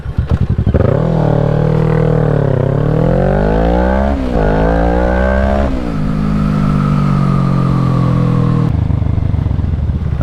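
A motorcycle engine roaring loud and close as the rider takes off, revving up and down with shifting pitch, then settling into a steadier drone before dropping away at the end.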